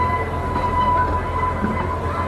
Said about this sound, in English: There's a little shot of the loco.